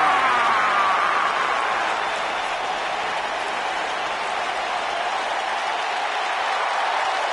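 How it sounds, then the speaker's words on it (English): A wrestling arena crowd applauds the longest-reigning tag team champions, a steady wash of clapping and cheering that holds at an even, loud level throughout, with a faint whistle-like tone early on. "Clap for your longest reigning tag champs and feel the power!"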